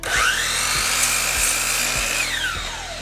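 A power saw cutting wood pieces for a birdhouse, running in a steady high whine that dips as it bites through the board, loud and close, with no talk.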